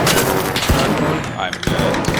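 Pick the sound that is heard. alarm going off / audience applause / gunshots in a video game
gunshots in a video game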